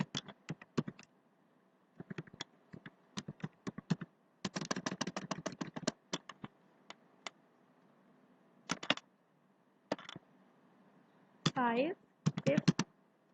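Keys clatter in bursts of quick taps on a computer keyboard, close and crisp, with pauses between runs and a brief swishing sound near the end.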